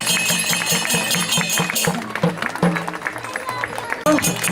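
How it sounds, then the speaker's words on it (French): Crowd applauding the Kumari, the living goddess, at a public appearance, with dense, steady clapping that thins toward the end, while a voice talks over it. "On l'applaudit encore bien fort, s'il vous plaît."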